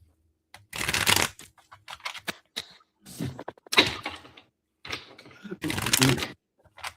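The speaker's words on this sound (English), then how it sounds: "One more shuffle." Tarot cards are shuffled close up in several quick riffling bursts separated by short pauses, with faint talk in between.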